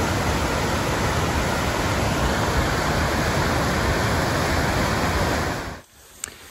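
A mountain stream swollen with snowmelt runoff rushes loudly near Forrester Pass, a dense, unbroken roar of close water that drops away suddenly near the end.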